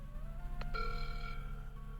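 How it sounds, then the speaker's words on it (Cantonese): A telephone bell rings in one clear electronic burst, loud and steady over a low background hum, with no voices. "佢打電話俾鄭超"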